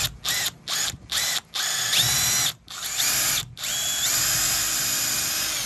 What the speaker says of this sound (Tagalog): Yan ang reason kung bakit ito ang ginagamit kong drill bit.